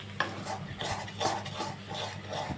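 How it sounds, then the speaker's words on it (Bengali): Potol and prawn mash being stirred and pressed in a pan, with a spatula scraping and clinking against the metal in repeated strokes at close range, with a faint sizzle underneath. "তো খুব সুন্দরভাবে এখন আমি কষিয়ে নেব"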